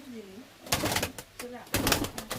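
Pigeons in a loft kept for Najra, Kaldum and Rampuri breeds give a couple of soft, low coos, partly covered by louder bursts of handling noise and people talking nearby.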